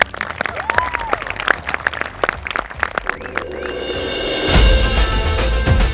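Loud applause from a studio audience fills the first half with dense, sharp claps, then gives way to a swelling musical sting and low rumbling whoosh.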